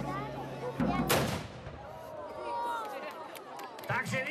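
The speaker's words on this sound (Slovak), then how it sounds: "tu vám ukážeme, ako sa strieľalo z loveckej pušky" An 18th-century hunting rifle is fired outdoors at a historical reenactment demonstration during a town festival, giving one loud sharp report that rings out over a murmuring crowd and talk.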